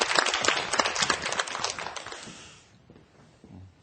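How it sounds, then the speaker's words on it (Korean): Studio audience applause breaking out loudly at first, a dense wash of clapping that tapers off and fades toward the end, with a faint voice in the tail. "박수로 청해드릴까요?"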